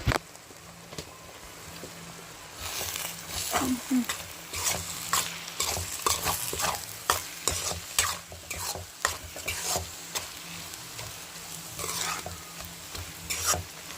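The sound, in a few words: stirring food frying in a pan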